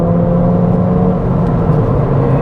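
Ford Fiesta ST 1.6T turbo engine drones steadily while driving, a loud, close, sustained rumble with a low, even tone and no talk over it.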